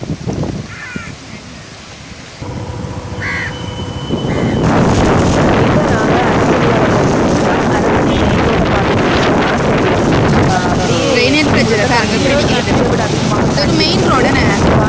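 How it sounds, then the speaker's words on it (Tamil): Strong gusts from Cyclone Fengal in Batticaloa buffet the microphone with a loud, rough roar that jumps up after a few seconds and stays heavy and constant, with a voice faintly under it early on. "அதே மாதிரி காத்தோட அளவும் அதிகமாக இருக்குது."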